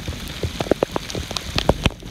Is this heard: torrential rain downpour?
yes